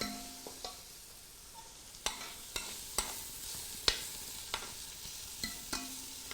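Onion with a pinch of salt sautéing in a pan, a soft steady sizzle punctuated by about a dozen sharp clicks and scrapes of a utensil stirring against the pan, with no talking.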